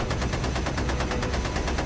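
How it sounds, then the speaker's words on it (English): A machine gun fires from a WWII bomber at an attacking enemy fighter, heard as one loud, unbroken stream of rapid, evenly spaced shots that fills the whole short stretch with no voices. "First to fire is the bombardier Joel Toppin."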